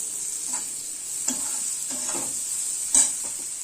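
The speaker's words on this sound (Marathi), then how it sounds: "चांगले परतून घेऊया।" Paneer bhurji being stirred and sautéed in a pan, a steady close sizzle with a few soft scrapes and taps of a spoon against the pan.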